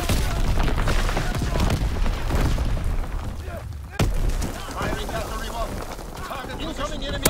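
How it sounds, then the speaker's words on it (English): Artillery fire in Call of Duty: WWII: a dense, continuous wall of booming battle noise with rolling low rumble and a sharp, loud blast partway through, all close and heavy. "Incoming enemy artillery! Get to cover!"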